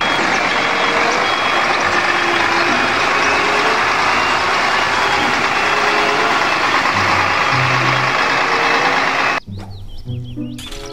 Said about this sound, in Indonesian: Mobil truk molen pengaduk semen.